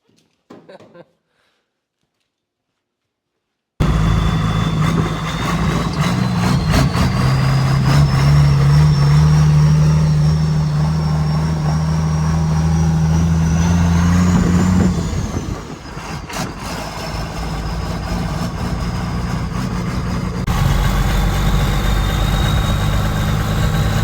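A Jeep Wrangler swapped with a 5.9 Cummins diesel idles loud and close with a steady low rumble and a whine on top, starting after a few seconds of silence, with voices over it.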